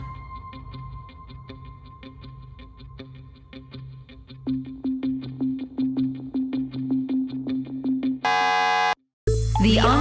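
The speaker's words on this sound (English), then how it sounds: "Did you beat the buzzer?" A steady ticking countdown from a word-guessing game speeds up over a low electronic pulse, then ends in a loud, harsh buzzer blast and a brief musical sting.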